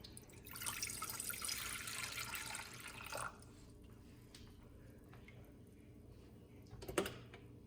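Two cups of water pour steadily into a cooking pot for quinoa for about three seconds, then stop, leaving quiet background with a brief clatter near the end.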